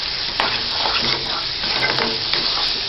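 Chopped eggplant sizzles steadily in a hot pan with oil and salt while a spoon stirs and scrapes through it, a continuous close frying hiss with soft periodic stirring scrapes.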